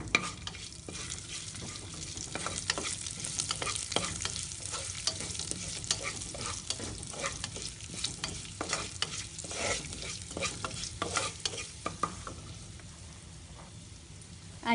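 Cumin seeds and curry leaves hit hot oil with a steady, crackling sizzle and stirring, a dense popping spatter like rain that runs unbroken and fairly close, with no one talking.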